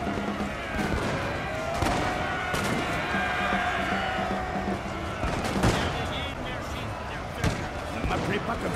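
Musket volleys in a video game battle around Munich, repeated cracking shots scattered irregularly over a noisy battlefield din, with a voice speaking through parts of it.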